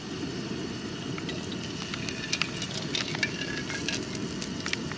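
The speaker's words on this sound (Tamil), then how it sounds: "எண்ணெயை ஊற்றிப்போம்." Hot oil sizzles in a pan as cooking starts for a pond oyster curry, a steady crackling hiss with small scattered pops and spits, close by and continuous, with no talking.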